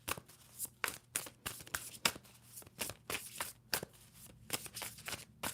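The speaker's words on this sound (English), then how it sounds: "Two more shuffles for Pisces." A deck of tarot cards is shuffled by hand in quick repeated bursts, crisp riffling and slapping bunches of cards close to the microphone, with short pauses between.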